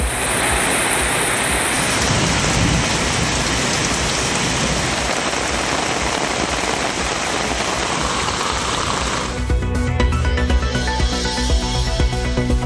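Steady rain pouring around Coimbatore and Tiruppur, a dense, continuous loud hiss that shifts partway through to a slightly different patter with faint tonal sounds underneath, with no voices.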